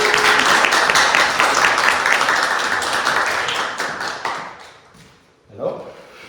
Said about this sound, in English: I encourage you to welcome with great applause and compassion the first speaker, that is Claudiu.